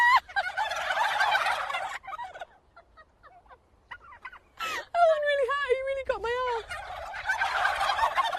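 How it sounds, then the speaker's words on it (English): Farm turkeys gobble in loud, repeated bursts, with a gobbling call at the start, sparser calls in the middle, and a long run of rising, warbling gobbles toward the end before the flock noise swells again. "the turkeys, which seemed to be cackling"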